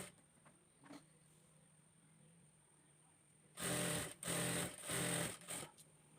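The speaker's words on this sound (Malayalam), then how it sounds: "ഇതുപോലെ വീതിക്ക് നമ്മളത് മടക്കി സ്റ്റിച്ച് ചെയ്തെടുക്കാം." Sewing machine stitching a folded hem on straight trousers: quiet room at first, then three loud close bursts of rapid mechanical whirring with short pauses between.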